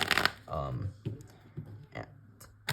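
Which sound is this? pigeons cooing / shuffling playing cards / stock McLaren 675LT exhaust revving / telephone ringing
shuffling playing cards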